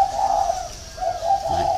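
A caged red-whiskered bulbul used as a decoy bird calls close by, giving clear, sustained whistled notes in two phrases with a short pause between them.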